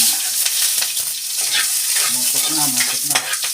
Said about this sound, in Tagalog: Magluto ako ng puset.